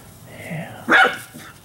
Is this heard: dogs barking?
yes